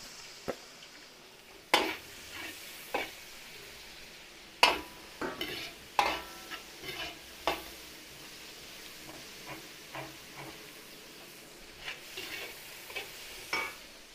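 Onions and chorizo sautéing together in a pan for a Filipino kaldereta: a soft, low sizzle under sparse, sharp scrapes and clicks of a utensil against the pan, alone with no talk.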